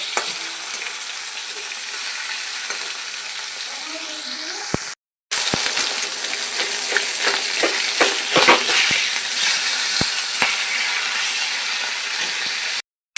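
Fish sizzles and crackles in hot oil, a continuous frying hiss with occasional scrapes and clicks of a utensil, close and fairly loud.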